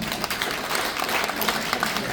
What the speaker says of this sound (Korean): 다시 한번 박수를 주시기 바랍니다.